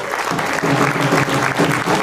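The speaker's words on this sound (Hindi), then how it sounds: "जबरदस्त तालियों से उनका स्वागत करें।" An event audience in Jaipur breaks into loud, sustained applause to welcome a speaker onto the stage, a thick wash of many hands clapping close and continuous for a couple of seconds.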